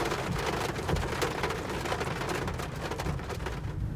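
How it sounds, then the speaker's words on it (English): Heavy rain pours onto a 2018 Mazda MX-5 Miata RF, a dense, continuous hiss and patter of drops on the roadster's roof and glass, steady and close with no talking. "If the rain is pouring harder, the wiper goes faster as well"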